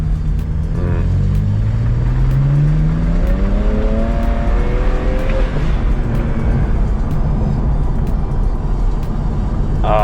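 A BMW E92 335i with the N54 engine, fresh injectors and a JB4 tune runs loudly up close, its revs climbing and falling with rising harmonic tones over a constant throaty drone.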